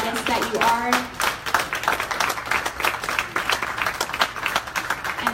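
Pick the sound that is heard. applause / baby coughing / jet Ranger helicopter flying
applause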